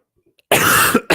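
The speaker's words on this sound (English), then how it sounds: "Sorry, I just had to cough there." A single sharp, loud cough close by, followed a moment later by a short second burst, after near silence.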